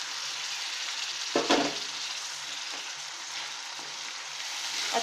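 Tomato paste sizzles steadily in hot oil as a continuous frying hiss, while a couple of faint stirring knocks cut in partway through.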